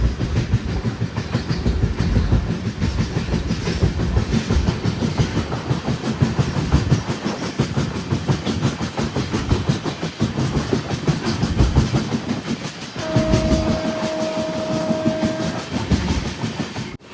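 A Jan Shatabdi Express on the Villupuram–Coimbatore route nears Vaitheeswaran Koil station. A steady, close rumble of wheels on rails with rhythmic clickety-clack runs throughout, and a sustained horn tone sounds briefly near the end.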